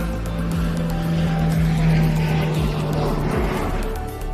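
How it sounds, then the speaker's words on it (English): An E-2C Hawkeye twin-turboprop of Flottille 4F from Lann-Bihoué flies a spirited solo airshow display, a loud, steady propeller drone with a strong low hum that swells and holds, then eases slightly as it passes. "this E2C Hawkeye from Flottille 4F at La Buée gave a spirited solo display"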